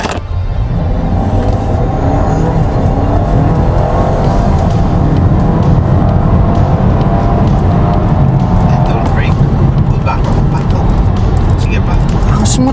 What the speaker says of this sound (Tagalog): Full throttle, sir? Yeah, full throttle.